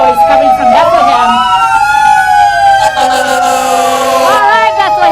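A wailing fire truck siren from Bethlehem rises and falls in long sweeping tones at a parade, loud and close with crowd noise underneath.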